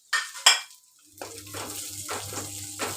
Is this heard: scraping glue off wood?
no